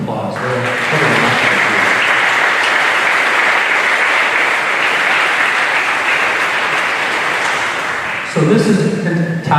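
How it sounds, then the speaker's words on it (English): A large audience at a high school class night ceremony gives the graduating class a sustained round of applause, dense steady clapping lasting about eight seconds before tapering off, with a brief louder burst at the very end. "I think we got to give this group a round of applause."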